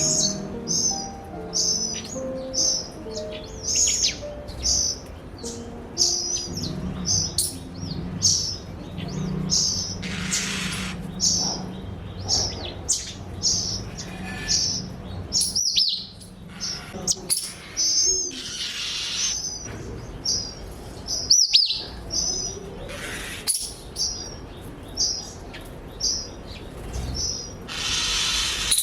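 Repeated bright robin calls and chirps ring out through a dense background of other birds, steady and fairly close.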